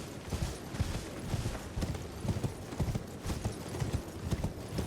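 Galloping horse hooves from riding in the open-world game Elden Ring thud in a quick, steady rhythmic beat, close and fairly soft, with no talking over them.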